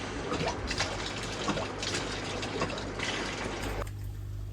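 Water draining from a koi pond Tempest valve, a continuous splashing gush and trickle close by, steady throughout before cutting off abruptly near the end.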